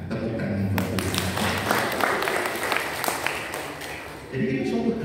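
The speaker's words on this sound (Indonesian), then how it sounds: "Tepuk tangan buat Tuhan." A church congregation at a Sunday service claps together in a dense, uneven patter of hands that runs for several seconds, mixed with low voices and fading briefly before picking up again.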